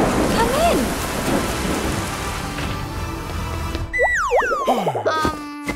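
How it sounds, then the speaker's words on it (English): A cartoon thunderstorm brings steady heavy rain and rumbling thunder, then gives way to springy, bouncing cartoon sound effects near the end. "Thunderstorms are really dangerous!"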